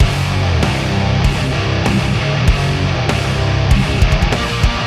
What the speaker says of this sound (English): I found this one that's called Scratchy, which is an Ampeg into a Mesa cab